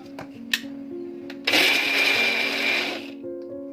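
A kitchen mixer grinder whirs loudly for about a second and a half as it grinds around fifteen cashews into coarse rice flour for crispy nippattu, starting abruptly after a couple of light clicks and stopping sharply.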